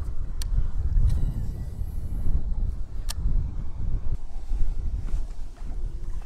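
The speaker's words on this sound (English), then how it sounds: "Golly, it's windy." Strong wind buffets the microphone on the Colorado River while fishing, a steady low roaring rumble with gusty swells, close and loud throughout, with a few faint clicks over it.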